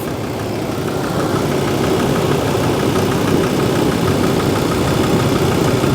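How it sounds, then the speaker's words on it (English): Engine of a Smart car running with its big cooling fan spinning, heard close up as a loud, steady mechanical drone with a whirring, rhythmic churn and no pauses. "Nice big fan whopping around in there."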